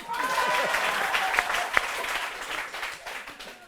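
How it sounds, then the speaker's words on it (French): An audience at a comedy show bursts into dense, sustained applause with a few sharper claps and crowd noise, steady and loud before gradually thinning toward the end. "Applaudissez pour les soussous."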